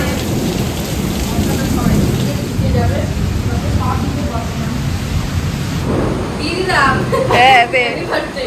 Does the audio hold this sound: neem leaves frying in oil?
no